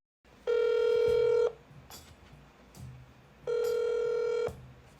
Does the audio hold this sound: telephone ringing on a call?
yes